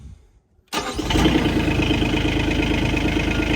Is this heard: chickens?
no